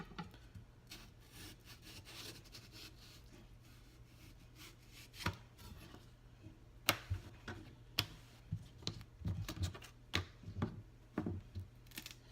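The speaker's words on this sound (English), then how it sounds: "so now I'm going to cut the sides of the pepper in half so they're more easy to manage" A knife cuts through a pepper on a board, faint at first, then a run of sharp, irregular taps and chops grows more frequent toward the end over a low steady background hum.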